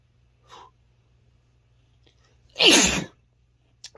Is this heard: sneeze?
yes